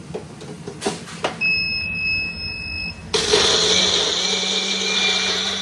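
A mixer grinder whirs loudly as it grinds whole dried chillies and melon seeds, starting abruptly after some handling clicks and a high whine, then running steadily close by.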